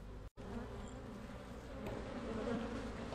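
Bees buzzing at an open, aggressive hive, a dense continuous drone close to the listener that swells slightly toward the end, broken by one brief dropout.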